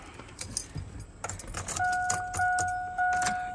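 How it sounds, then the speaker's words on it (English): Truck keys for a new Chevrolet 2500HD jangle and clink close up in a few quick bursts, then a steady electronic chime begins and continues under the rattling. "let me pull my keys back out real quick"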